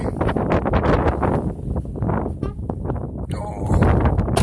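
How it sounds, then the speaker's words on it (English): Strong mountain wind in a snowstorm gusts and roars against a truck door, a loud, continuous rushing with buffeting that swells near the end. "Oh, there, the wind's blowing, trying to push the door shut."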